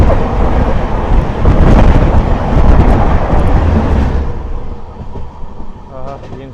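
The Rani Chennamma Express on the Bengaluru to Hubballi run gives a loud, rushing roar of moving coaches with heavy wind buffeting that fades toward the end, where faint voices come in.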